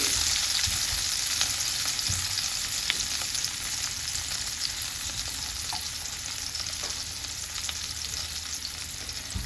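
Lemon juice and garlic simmering in a pan for a salmon pasta, a steady moderate sizzle with occasional light clicks of a utensil, continuous and close, without speech.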